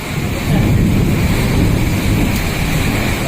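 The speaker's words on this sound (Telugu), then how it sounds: "చాలా ఘోరంగా పడుతుంది గైస్ వర్షం" Heavy rain pours down during a thunderstorm, a loud, dense, unbroken roar of falling water with low rumbling underneath and no voices.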